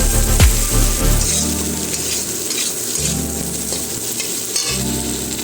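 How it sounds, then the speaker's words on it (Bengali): Chilli garlic cauliflower frying and being stirred in a pan, a steady sizzle broken by repeated scraping stirs; no one speaks. "এরপর ভালো করে নাড়তে থাকবো।"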